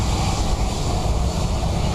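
An aircraft landing on runway 28 left at Dublin Airport on a windy day makes a loud, continuous, broadband engine roar with no break or pause.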